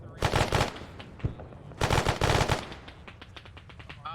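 Machine gun bursts rattle from a building in ARMA 3, with two dense volleys followed by scattered fainter single shots, close and loud.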